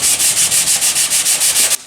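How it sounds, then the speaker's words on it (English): Rapid, rhythmic back-and-forth hand sanding of spot putty and body filler with light pressure, about a dozen quick rasping passes, close and loud, then stopping. "Trying to get some of the sanding marks out and get this spot putty sanded down here."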